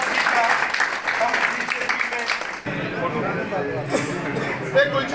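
Crowd applause at a public felicitation event in Jammu and Kashmir, a dense patter of clapping that fills the clip, with a loud voice talking over it and a shift partway through.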